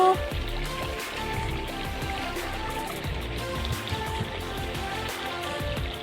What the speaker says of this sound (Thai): น้ำหลากจ้าน้ำหลาก หลังจากที่ฝนตก